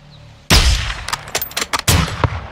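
Gunfire in Call of Duty: Modern Warfare 2 (2022): a sudden loud, close shot rings out, followed by a burst of several sharp reports and echoing cracks that taper off.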